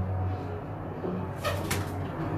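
Pigeons on a rooftop, kept flying birds belonging to Ustad Mustafa Adawale, give low, steady cooing over a constant background hum, with a couple of brief rustling bursts near the middle.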